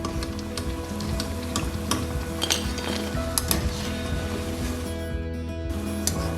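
Pakoras frying in hot oil hiss with a steady sizzle while a utensil clinks and scrapes against the pan and plate as they are lifted out, several sharp metallic taps over the bubbling.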